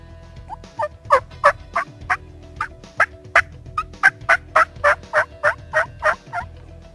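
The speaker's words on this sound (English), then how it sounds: "Got a gobble." A wild turkey gobbles in the woods, a rapid string of sharp rattling gobble notes that rises to a dense burst, clear and moderately near against a quiet outdoor background.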